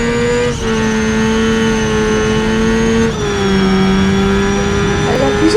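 A powerful car engine in BeamNG.drive revs loudly and steadily, its pitch holding near constant with a couple of brief dips, heard alone and up close.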